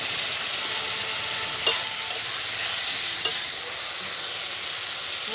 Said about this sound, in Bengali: জল দিয়ে মশলাটাকে ভালো করে কষিয়ে নিব